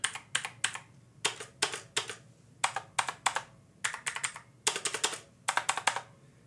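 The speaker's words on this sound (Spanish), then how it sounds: "Es el teclado más ruidoso que he probado hasta la fecha" Loud, clacky keystrokes on a cheap mechanical keyboard, some keys sounding different from others, come in quick bursts separated by short pauses, close and clear with no voices.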